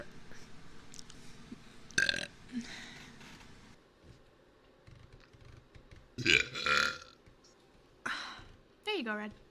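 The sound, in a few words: burp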